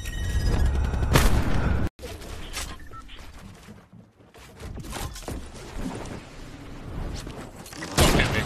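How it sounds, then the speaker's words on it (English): A grenade blast in a first-person shooter game booms loudly, then cuts to a sudden gap before scattered gunfire and battle noise resume at moderate level, with a louder burst near the end. "Grenade!"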